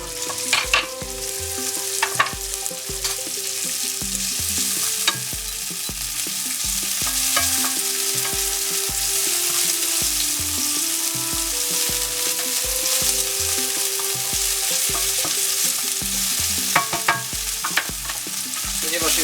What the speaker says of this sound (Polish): to bardzo szybki proces smażenia